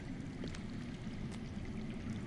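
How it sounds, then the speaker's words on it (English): Low, steady rushing and trickling of water flowing underground in the Telltale Game of Thrones video game, a continuous faint murmur with small drips, no talking. "I hear water. From underground."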